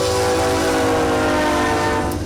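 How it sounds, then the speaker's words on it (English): Train horn blaring in downtown Cameron, a loud sustained multi-tone blast held without break over rumbling rail noise, close by. "Roxanne Witt, owner of ZX Made in Texas, hears the train in downtown Cameron"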